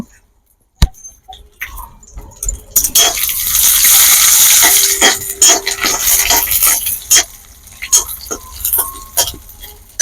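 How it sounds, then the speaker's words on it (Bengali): Cashews, raisins and nuts dropped into hot oil, starting with a sharp knock, then a loud rising sizzle with scraping and clattering stirs that settles into crackling frying. "তেল গরম হয়ে গেছে এবার তেলের মধ্যে আমি কাজু কিশমিশ বাদাম সব একসাথে নিয়ে ভেজে নেব"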